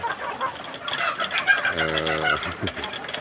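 Native village chickens (ayam kampung) clucking close by, busy overlapping calls with a sustained tonal cluck in the middle, over a noisy farmyard background.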